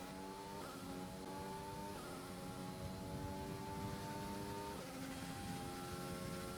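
A racing car engine in a video game on a hot lap around the Circuit of the Americas, USA, winds up through rising gears with sharp drops at each upshift, a steady, moderately loud drone with no talk.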